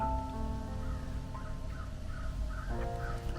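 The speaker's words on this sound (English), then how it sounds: "I hear a crow." A crow caws a few times in the background outdoors, moderately loud and repeated at irregular intervals over steady ambient sound, with no talking.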